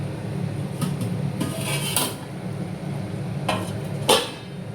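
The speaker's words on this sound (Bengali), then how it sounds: "দিয়ে এবার ঢাকা দিয়ে দেবো।" A lid clanks onto a cooking pan, one that has just had water added to it, during kachori preparation in a home kitchen. Several sharp metallic knocks stand out over a low background hum.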